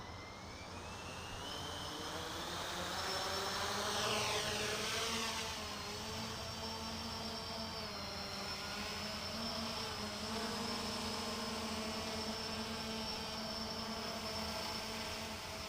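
An XK Sky Dancer X350 RC aircraft flies over pavement outdoors, giving a steady, fairly close buzzing whine whose pitch climbs early on and then holds level for the rest of the flight. No one talks.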